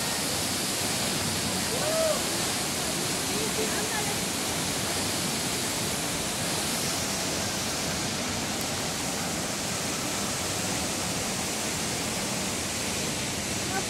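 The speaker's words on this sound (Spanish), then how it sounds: "ya llegamos aquí a la cascada de la burbuja" The Cascada de la Burbuja waterfall at Parque Ecoturístico Esmeralda in Amecameca roars in a steady, loud, unbroken rush of falling water that fills the whole scene.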